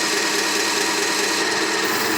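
Mini rotary tool polishing at high speed, a continuous, dense, loud grinding whir heard up close without pause for the whole short stretch.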